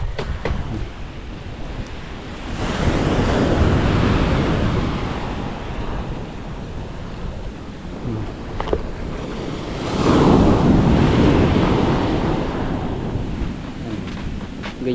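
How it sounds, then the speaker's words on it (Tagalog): Large ocean waves at high tide roll in on a rough day, two heavy surges of roaring surf building and fading over a constant wash, with wind buffeting the microphone. "Pero high tide pa rin, malaki ang alon ngayon."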